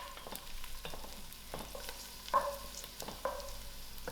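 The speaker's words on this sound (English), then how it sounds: "While my onions are just beginning to turn color, I'll throw in my cinnamon stick and my bay leaf. Give this a nice mix." Onions frying in a pan with a cinnamon stick and bay leaf as they are stirred, giving a soft steady sizzle broken by a few scraping stirs and clinks near the middle and end.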